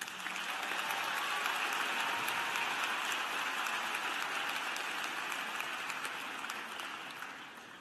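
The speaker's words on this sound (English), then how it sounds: "Please give them a round of applause." Sustained applause from a large crowd at a university graduate commencement, a dense steady clatter of clapping that fades slightly toward the end.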